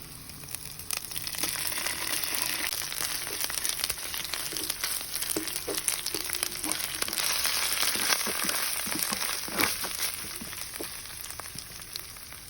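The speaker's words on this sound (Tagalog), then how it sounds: "At isasama na rin natin yung ating pesto pasta para masama siya sa gisa." Pesto penne pasta with ground black pepper and a little salt sautés in a pan, giving a continuous crackling sizzle with occasional stirring scrapes and no voices.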